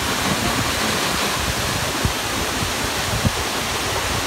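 Steady, dense rushing of Tad Yeuang waterfall in Pakxong, Champasak, Laos fills the scene, a constant hissing roar with no pauses.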